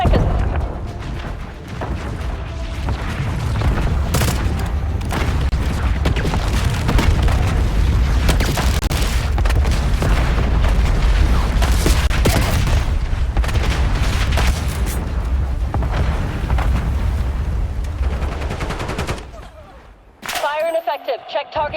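Heavy airstrike explosions in a first-person shooter game roll together into a dense, sustained barrage of booms and rumbling blasts, loud and close, then cut off abruptly near the end as game sounds resume.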